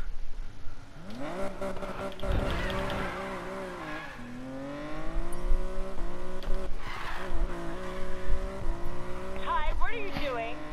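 A GTR car in the video game Need for Speed Payback, its engine pitch sweeping up and down through gear changes with tire squeal, under game dialogue and music.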